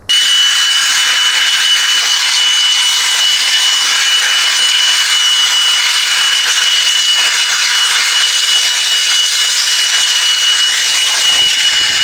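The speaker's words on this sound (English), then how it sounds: "I found that a leaf blower works way better just because it has so much more volume." A loud, steady rushing roar of a leaf blower drying off a motorcycle blasts continuously throughout, with no pauses or talk.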